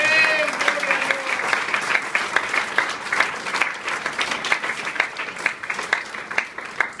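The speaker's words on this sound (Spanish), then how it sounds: "Un aplauso fuerte para el Señor." A church congregation breaks into loud, sustained applause, dense rapid clapping from many hands filling the room for several seconds.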